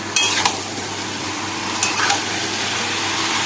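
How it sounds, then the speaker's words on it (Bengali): Meat fries with onions in a pan, a steady crackling sizzle with a few scraping stirs of a spatula near the start and middle. "জল ঝরানো মাংসটা এর মধ্যে দিয়ে পেঁয়াজের সঙ্গে প্রথমে একটুখানি ভালো করে কষি"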